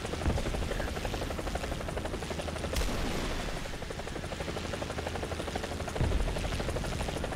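Romanian military helicopter in a combat video game, its rotor and turbine drone loud and steady throughout, with two sharp bursts like distant explosions or gunfire breaking through.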